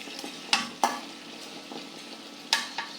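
Onion frying in oil in a wok on an electric stove gives a low steady sizzle, broken by a few sharp clinks of a spatula against the pan, close and without talk.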